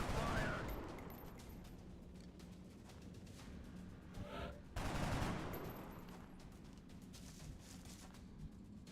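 Bursts of rapid gunfire from an XCOM: Enemy Within battle, fusillades at the start and again midway with a quieter stretch between, mixed with game effects and faint background noise.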